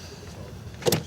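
A car door shuts with a single sharp thud near the end of a brief stretch of low ambient noise, close by as someone gets into the car.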